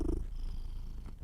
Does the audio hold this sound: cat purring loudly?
yes